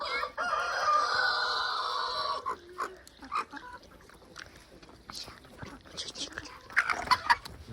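On a farm with chickens and a rooster, loud fowl calls dominate the first couple of seconds, then give way to scattered clucks and noises among voices talking.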